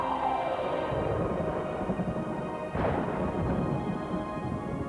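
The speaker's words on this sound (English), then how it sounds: "Galileo was hearing the sound of lightning bolts rippling into the Earth's magnetic field" Radio whistler signals from lightning, recorded by the Galileo spacecraft as it passed Earth, form a continuous hiss and crackle like a storm. Descending swooping tones sweep through it, and a sharper burst comes partway through.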